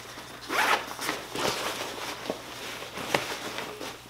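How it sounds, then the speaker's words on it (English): A zipper on a Condor Elite Sector sling bag is pulled open in several short, close rasping strokes, with brief pauses between pulls and no talking. "there's a zipper sandwiched here in the top"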